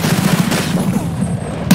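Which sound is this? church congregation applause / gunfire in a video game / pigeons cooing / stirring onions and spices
gunfire in a video game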